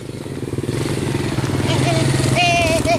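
A motorcycle engine rumbles loudly and close by with a steady throbbing idle, while voices chatter over it.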